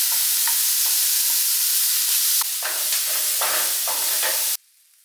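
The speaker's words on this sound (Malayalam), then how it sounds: "ഉള്ളി അരിഞ്ഞതും അതുപോലെ പച്ചമുളകും ചേർത്തിട്ട് നമുക്ക് നന്നാക്കി വഴറ്റിയെടുക്കാം." Chopped onion and green chilli sizzle loudly in hot coconut oil for a fish curry, with a steady hiss broken by repeated spatula scrapes and stirring knocks before the frying cuts off abruptly near the end.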